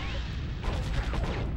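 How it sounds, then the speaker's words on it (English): Fireworks burst in the shooter game Warhammer 40K Fire Warrior, a run of sharp, crackling blasts and pops that thicken partway through over a steady rumbling game backdrop. "Oh, another firework made it further than I did."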